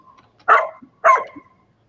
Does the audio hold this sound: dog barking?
yes